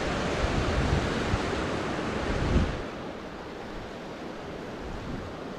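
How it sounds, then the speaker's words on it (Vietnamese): A forest stream near a landslide area in storm-hit central Vietnam babbles and rushes in a steady, broad wash of water that drops slightly quieter partway through, with no talking. "tiếng suối nó rất là đẹp, nghe róc rách róc rách"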